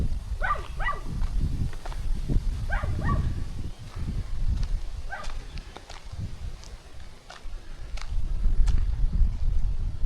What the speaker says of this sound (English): As you can hear, dogs are allowed.